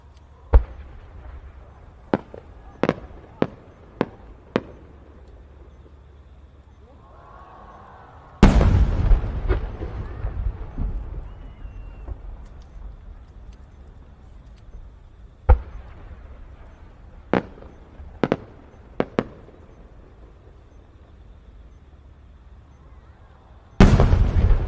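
Competition fireworks shells, including a ten-inch multi-break shell, burst one after another at the Sanriku fireworks contest: a run of sharp distant pops, a big booming report with crackling tail, more scattered bangs, then another loud boom.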